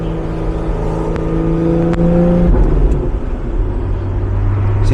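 A 2024 Lotus Emira's engine drones loudly from inside the car as it accelerates, its steady tone shifting with gear changes and rising revs over low road rumble.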